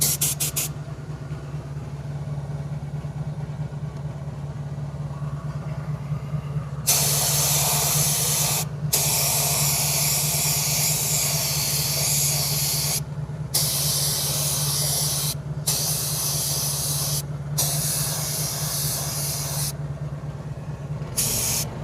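Bursts of spray paint hiss loudly onto a Cadillac Escalade V wheel rim being repaired for curb rash, in several separate blasts with short pauses between them, over a steady low hum.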